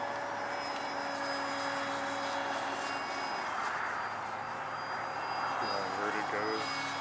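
A 1:26 scale radio-controlled Soviet Buran space shuttle propjet model flies inverted at half throttle, giving a steady, distant whine and hum with a pitch shift near the end, while a voice talks over it.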